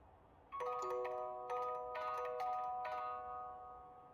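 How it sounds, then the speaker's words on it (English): A playful ice cream van car horn from the racing game Forza Horizon 4 plays a short chiming melody of bright, bell-like tones. The notes sound clearly over a faint background hum, with no talk. "the ice cream van car horn, which sounds like this"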